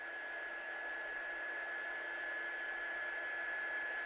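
A heat dryer blowing on a wet stamped card, a faint, steady whirring hiss with a constant high whine and no break.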